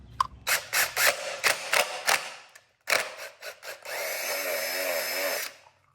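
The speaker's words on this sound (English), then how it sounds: "I'm going to drill a hole directly in the center right here." A power drill whirs in a series of short bursts, then runs in one long steady spin before stopping, drilling a hole in a Chevrolet Silverado, close and loud with no talking.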